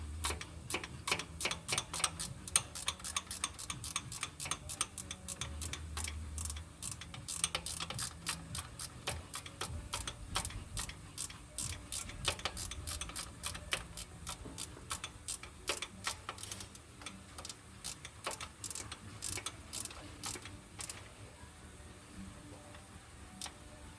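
A ratchet wrench turning a bolt while replacing the fuel pump on a 1978 Ford F-250 Dentside with a 460 engine, a long string of close, quiet clicking in uneven bursts.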